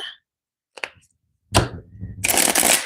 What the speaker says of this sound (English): So we're just going to give them a shuffle while we wait